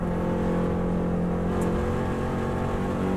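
A Subaru WRX STI engine holds a steady, loud drone in fifth gear, heard from inside the car on the Isle of Man TT road course, with constant tyre and wind roar and no speech.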